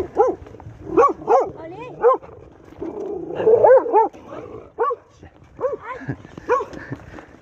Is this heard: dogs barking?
yes